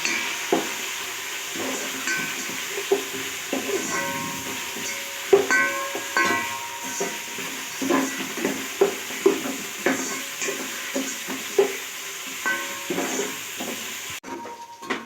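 Sliced onions and ginger fry and sizzle in a pan, with a steady hiss under repeated clinks and scrapes of a spoon stirring against the metal, all close and without any talk.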